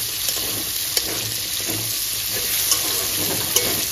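Cut potatoes fry in hot oil in a pan, giving a loud, continuous sizzle with occasional scrapes of stirring throughout.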